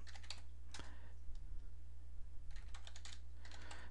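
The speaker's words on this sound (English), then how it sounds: "I have trouble typing and talking at the same time" Quick bursts of typing on a computer keyboard, close up over a steady low electrical hum. Clusters of rapid keystrokes are separated by short pauses, with a louder single key strike near the first second.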